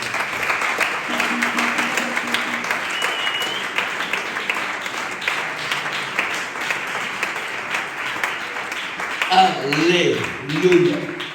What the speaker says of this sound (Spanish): El mejor aplauso que tengas de siempre.